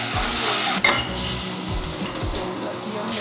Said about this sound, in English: And now we're gonna saute it.